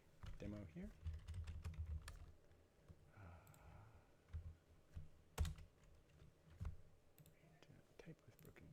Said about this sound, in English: Type with broken keyboard.